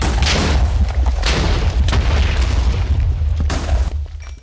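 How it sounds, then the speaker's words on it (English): A loud, rumbling explosion in the video game Dissent, with heavy low-end boom and crackling debris, sustained for several seconds before tapering off at the end. "This is going to be a big explosion."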